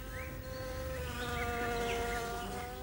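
Wasps buzzing in a dense, steady drone with overlapping wingbeat tones, close and continuous, shifting slightly in pitch as insects move about.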